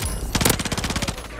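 Rapid gunfire from a video game cracks out in a dense burst of about a dozen quick shots, loud and close, then trails off.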